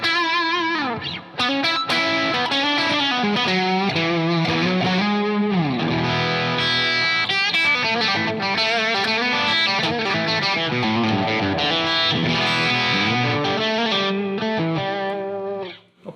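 A home-built Telecaster electric guitar played with heavy gain and distortion, a continuous run of sustained, saturated notes and chords up close, with no talking.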